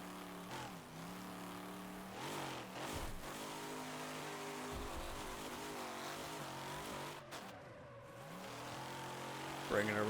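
A car engine in the Wreckfest racing game, running a Real2Life mod, holds a steady drone with rising and falling pitch through the gears as it accelerates and revs, with a voice talking over it throughout.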